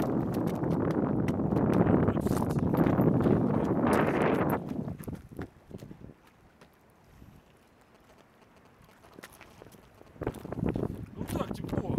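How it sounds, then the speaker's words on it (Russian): Gusty wind buffets the microphone in loud rumbling waves, easing to a lull and returning, with voices talking outdoors at times in Yevpatoria. "Тепло, только сегодня что-то ветер."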